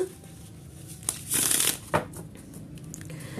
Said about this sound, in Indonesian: Kita akan shuffle kartunya.